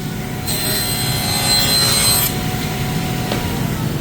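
A saw cuts through a piece of white oak, a short burst of close rasping strokes lasting about two seconds inside a kitchen remodel workspace.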